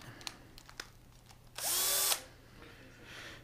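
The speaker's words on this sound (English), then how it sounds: "While I'm drilling these 36 holes" A power drill bores one of a row of holes into wood for a bed frame, a loud half-second whine standing out from quiet workshop ambience with faint taps around it.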